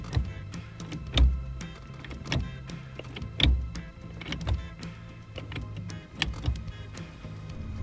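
Clunky mechanical clicks and thuds from a COSMO Racing short-shifter being moved through the gears in a 1983–2002 Camaro/Firebird, repeating at a steady, fairly close rhythm with a low hum underneath.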